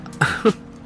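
Two short, rough coughs or throat-clearing bursts from a man with a bad cough, close and fairly loud, separated by a brief pause.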